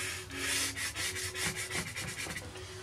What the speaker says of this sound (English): I might even now take the other end and rub it in my purple, violet-y sort of colour